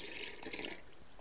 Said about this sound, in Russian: И заливаем все это холодной водичкой.